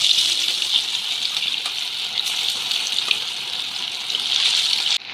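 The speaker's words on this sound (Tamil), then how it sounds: "இல்லை எண்ணெய் காஞ்சிச்சு. இப்போ சிக்கனை சேர்த்துக்கலாம்." Pieces of chicken 65 fry in hot oil in a kadai, a continuous bright crackling sizzle with small pops, steady and close, with a short clunk at the end.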